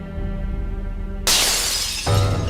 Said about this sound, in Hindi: किसी चीज के टूटने की आवाज है शायद।